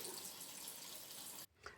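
Hot tap water runs steadily into a salad spinner in a kitchen sink, a constant rushing splash that cuts off abruptly near the end, followed by a brief drip and clatter.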